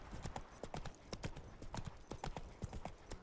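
Horse trotting through a town in the video game The Witcher 3, a steady run of hollow hoof clip-clops close by, with no one talking.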